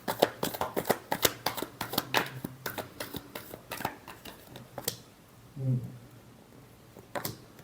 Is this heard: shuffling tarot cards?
yes